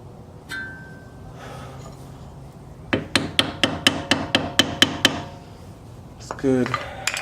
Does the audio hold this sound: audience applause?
no